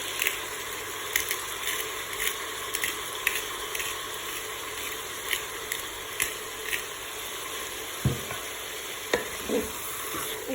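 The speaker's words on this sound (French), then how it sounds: "Et je vais bien mélanger tout ça." A chicken and mushroom pie filling is stirred in a Cookeo electric pressure cooker, with steady soft sizzling under repeated scraping and clinking strokes of a utensil, close and moderately quiet.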